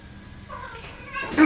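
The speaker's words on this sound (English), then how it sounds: "My cat's going crazy over there." An agitated cat yowls and caterwauls indoors in a short, rising cry that grows louder and harsher toward the end.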